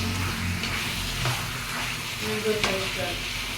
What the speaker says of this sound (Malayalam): ഒരു 10-15 മിനിറ്റ് വരെ ചെറിയ രീതിയിൽ ഒന്ന് തിളച്ച് വന്നുകൊണ്ടിരിക്കുന്നുണ്ട് നമ്മൾ